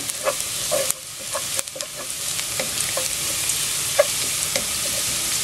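Garlic sizzles steadily in a hot pan while a utensil scrapes and stirs it in irregular taps and clinks, close and alone without talk.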